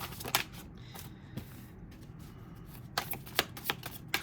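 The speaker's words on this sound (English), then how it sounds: "Cards have been thoroughly shuffled" A deck of tarot cards is shuffled by hand in soft, quiet riffling bursts, with a short pause in the middle before a few more crisp flicks.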